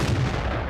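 A single loud, close boom from an M18 Hellcat tank destroyer's gun firing in World of Tanks, with a brief heavy rumble.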